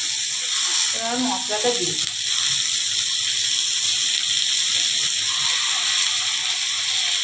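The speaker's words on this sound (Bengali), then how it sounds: "এইটাকে একটু ভাজা হতে দিতে হবে" Pointed gourd fries in a pan with a steady, close hiss and sizzle that runs throughout, with a brief spoken remark near the start.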